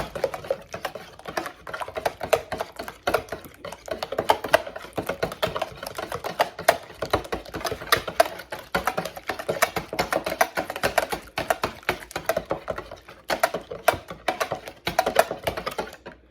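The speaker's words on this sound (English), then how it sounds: "You want to beat your eggs well." Eggs are beaten in a bowl for French toast with fast, steady, rapid clicking strokes, close and moderately loud, continuing without pause for a long stretch.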